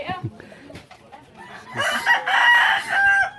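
A rooster crows loud and close at a rural province home where chickens are kept, after a few scattered clucks and faint background voices.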